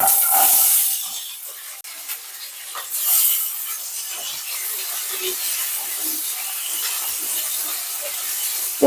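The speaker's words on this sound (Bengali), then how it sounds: "আলুগুলো সুন্দর করে ভেজে নেব" Potatoes frying in oil, a broad steady hiss and crackle up close that swells at moments, with faint rubbing noises and no speech.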